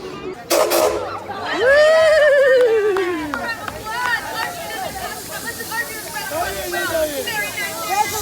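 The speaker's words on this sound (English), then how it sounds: "There it goes, a real steam engine." A real steam engine train at Knott's Berry Farm gives a short, sharp burst of hiss, followed by a busy theme-park background with children and adults talking nearby.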